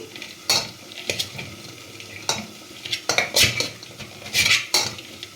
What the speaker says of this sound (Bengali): ছোলাটা এটা ম্যাশ করে দিচ্ছি